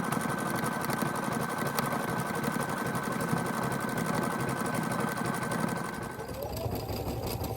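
A sewing machine stitches fabric onto a Halloween bat jar topper, a steady rapid mechanical whir that runs continuously, then winds down near the end.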